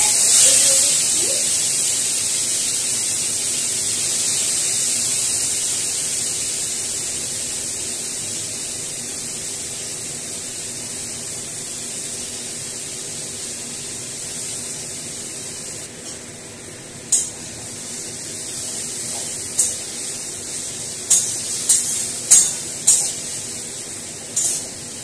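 Fish roe and oil sizzling in a hot pan while amla katla fish is cooked with turmeric and salt, a steady broadband fry hiss throughout, with sharper crackling pops clustering near the end.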